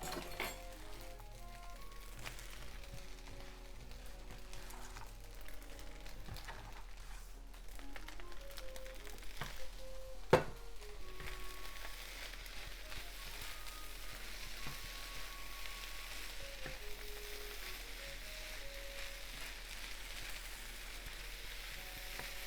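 Tuna and lettuce fry in a pan for fried rice, a constant, even sizzle with one sharp utensil clink partway through and faint background music underneath.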